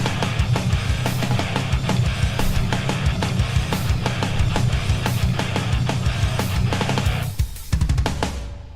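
Heavy metal riff with distorted guitars and pounding drums, dense and loud throughout, driving steadily before a brief drop and a final hit near the end.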